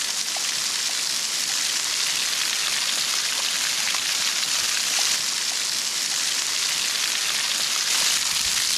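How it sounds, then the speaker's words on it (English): Steady broadband spray from a rainforest waterfall at Morton National Park, hissing and pattering like a heavy rain shower, loud and continuous throughout with no talking. "It just looks like a rainforest shower."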